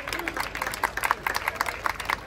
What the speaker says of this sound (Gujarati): આપણે સૌ તાળીઓના જોરદાર ગડગડાટથી વધાવીએ